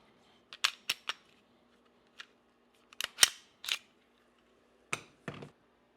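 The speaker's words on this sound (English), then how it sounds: "I'm gonna go off camera and remove the slide." SIG Sauer P365 FUSE pistol being field-stripped, with a sequence of sharp metallic clicks and snaps as the slide is worked and removed, close and distinct against a quiet background.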